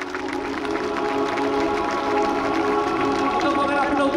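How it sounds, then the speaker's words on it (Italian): An outdoor crowd at an air show in Jesolo applauding, a steady wash of clapping heard from a distance, with an announcer's voice over it. "fate arrivare fin lassù il vostro applauso al tenente colonnello Massimiliano"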